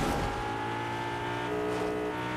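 A car driven in Fortnite hums with a steady engine drone and harmonic whine throughout, loud and continuous with no talk over it.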